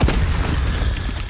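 A fire spell being cast in the Hogwarts Legacy video game, a loud, dense, low booming burst that rumbles steadily throughout without any voice over it.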